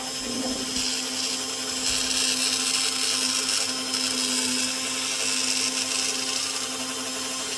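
A Dremel rotary tool grinds a rough opal picture stone, a steady high whine with a constant motor hum that carries on without a break from start to finish, close and fairly loud.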